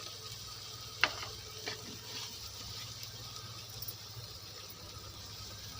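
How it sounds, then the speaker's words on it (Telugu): Onion, tomato and green chili with chili powder being stirred with a ladle as they fry for egg curry, giving a steady soft sizzle with a sharp scrape of the ladle near the start and lighter scrapes after. "కారం వేసుకున్న తర్వాత గరిటతో తిప్పుకోవాలి."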